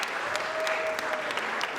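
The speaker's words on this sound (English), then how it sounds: "So give yourself a round of applause" Live audience applauding at a masquerade-themed dating show event in Washington DC, a steady dense wash of clapping with a faint sustained tone running through the middle.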